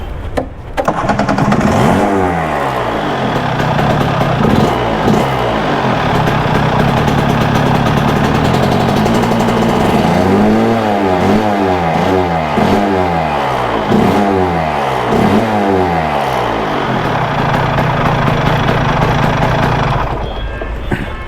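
A Rotax Superkart engine fires up, settles into a steady idle, then revs repeatedly in sharp rising and falling bursts, loud and close throughout with no talk.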